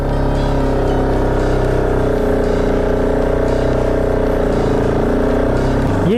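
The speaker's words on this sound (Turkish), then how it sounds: "Gaz veriyorum motora." A Bajaj Pulsar RS 200 motorcycle engine runs steadily and loud throughout, its note holding level with a slight rise in revs as throttle is applied, then dropping away sharply at the very end.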